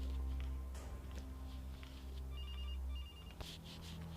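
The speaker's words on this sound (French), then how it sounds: "J'ai aucune envie de répondre à ce téléphone." A telephone rings inside the horror video game Case: Animatronics, its repeated electronic trill pulsing faintly over a low ambient drone and scattered game noises, with no talking.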